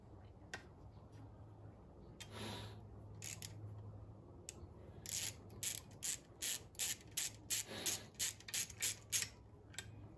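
Ratchet working on the bolts holding down the top of a compressor scroll: quick bursts of close metallic clicking, first sparse and then a fast regular run of strokes near the end, with no talking.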